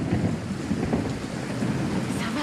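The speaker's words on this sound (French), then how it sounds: "au son, on entend l'orage gronder" Thunder in a film soundtrack rolls in a continuous low rumble, dense with the hiss of rain and no distinct crack.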